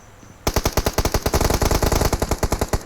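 Automatic gunfire in a battle royale video game opens after a brief quiet moment. About twenty rapid, loud, evenly spaced shots follow in one continuous burst.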